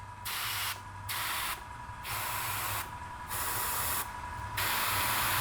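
Airbrush spraying in repeated bursts after its nozzle has been cleaned: five steady hissing blasts, each about a second long, separated by short pauses over a low background hum.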